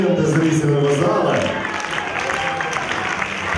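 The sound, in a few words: audience applause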